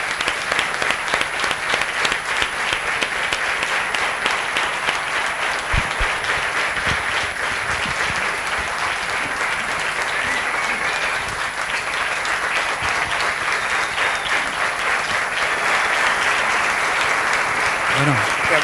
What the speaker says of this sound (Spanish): Muchas gracias por ese aplauso.